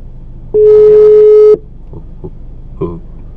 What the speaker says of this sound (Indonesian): Kita telepon Mili aja ya